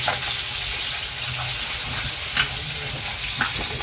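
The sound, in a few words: oil sizzling in hot wok for curry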